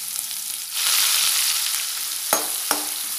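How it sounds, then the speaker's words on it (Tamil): Chopped onion sizzling in hot oil with asafoetida for tomato thokku, a loud, even frying hiss that swells as it settles, with two distinct spatula knocks near the end. "வெங்காயம் நல்லா வதங்கட்டும்."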